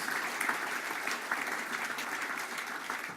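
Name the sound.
audience applause at a conference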